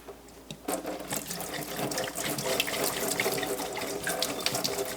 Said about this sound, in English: then I'll drain the water out just like this